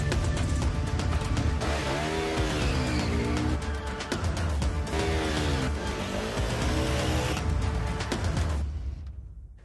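A 2023 KTM 1290 Super Adventure S with its LC8 V-twin engine revs and pulls steadily, its pitch rising and falling through several surges before fading at the end.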